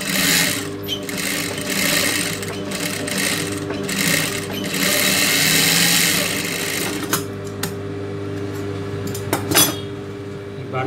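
A tailor's sewing machine stitches a lace neck design blouse in rapid continuous bursts, pausing briefly a couple of times, then stopping partway through, followed by light metallic clinks and handling.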